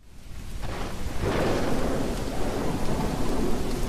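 Thunder rumbles up from quiet into a loud, sustained roar, with heavy rain falling throughout as a dramatic film-trailer effect.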